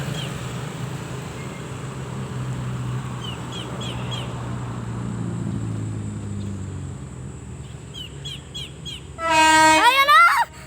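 PNR INKA DMU 8001 diesel multiple unit arriving at Irri Flagstop: a low engine rumble swells and then fades, and a loud, close horn blast sounds near the end.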